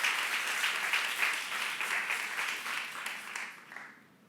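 An audience at a youth church service applauds, dense steady clapping lasting about four seconds before fading out.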